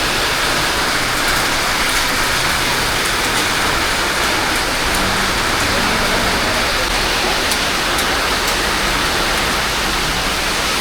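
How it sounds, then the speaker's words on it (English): Heavy rain pours down in Malaysia as a dense, unbroken hiss of water that stays loud and even throughout, with no voices. "the rain is really heavy now"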